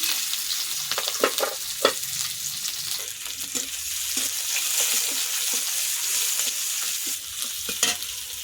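Dry red chilli and onion hit hot oil and fry with a busy crackling sizzle, broken by sharp pops and stirring clicks that come irregularly, close and clear.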